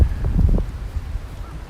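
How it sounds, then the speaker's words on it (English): Strong wind blowing outdoors near plum blossoms in Japan, heard as a low, rumbling buffet across the microphone that swells and eases throughout without a break. "Ah, so windy. Oh my god, so windy."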